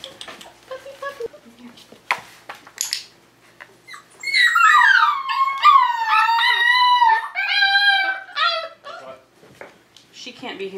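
Close by, a Tamaskan puppy at a door yips and whimpers, then breaks into long, wavering howls that rise and fall. Short yelps follow as the howling dies down.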